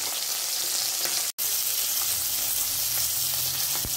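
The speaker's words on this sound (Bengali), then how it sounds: "পরপর এভাবে তুলে নেব সব মাছগুলো ভেজে" Bata fish sizzle in hot oil in a pan, a steady close hiss with light popping. It cuts out for a split second, then continues evenly with no voices.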